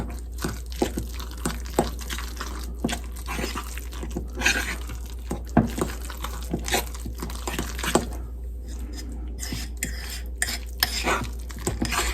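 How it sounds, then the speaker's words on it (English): Tuna chaffle batter with beaten eggs being mixed in a bowl, with a steady run of close, wet stirring and clinking of a utensil against the bowl, continuous and fairly loud with no talking. "Get this good and mixed up."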